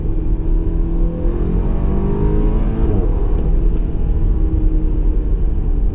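A 2017 Audi A4 in sport mode downshifting into second gear around 4,500 rpm, its engine heard from inside the cabin as a loud, steady droning rumble with rising and falling tones as revs shift, no voices.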